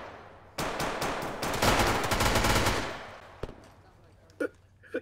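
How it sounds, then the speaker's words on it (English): Automatic gunfire in a video game, a dense rapid burst of shots emptying a magazine that roars for about two seconds and then tails off, followed by a few isolated sharp clicks and pops. "that guy was just emptying a mag into your side"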